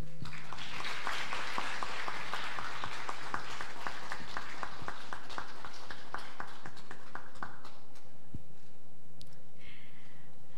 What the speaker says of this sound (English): Ladies and gentlemen, please give a proudly applause